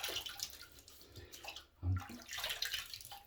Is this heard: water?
yes